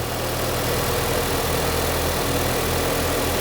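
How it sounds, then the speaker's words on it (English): A 2003 Nissan 2.5L car engine idles steadily at close range after a water pump replacement, a smooth low rumble with an even, continuous hum and no other sounds. "That there sounds like a happy engine."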